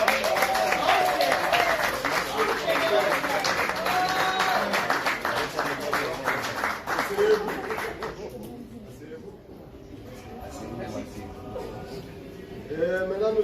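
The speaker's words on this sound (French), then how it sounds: "Applaudissez pour les parents." Guests at a civil wedding applaud the couple's parents, a full burst of clapping with some laughter and chatter mixed in, lasting about eight seconds before it dies down and leaves talking and murmuring.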